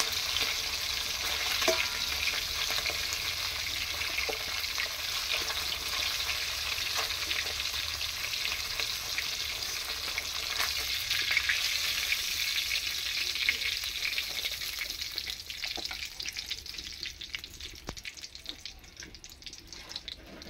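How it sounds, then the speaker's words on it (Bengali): Potato pieces fry in hot oil in a home kitchen, a continuous bright sizzle with occasional stirring scrapes, fairly close and steady, fading slightly toward the end. "এই তেলের সঙ্গে আমি আলুগুলো ভেজে নিচ্ছি।"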